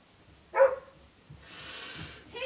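A dog gives a single short bark up close, followed by quieter breathy noise and shuffling in an otherwise quiet room.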